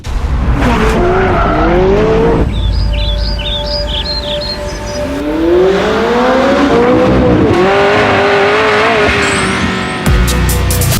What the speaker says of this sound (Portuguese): McLaren Senna com o Bruno Senna, a gente andou lá em Mônaco em 2017.